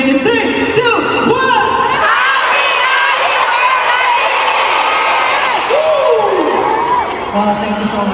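A crowd of fans at a fan event shouts a greeting in unison, loud, dense and sustained cheering with children's high voices, filling the whole stretch without pause.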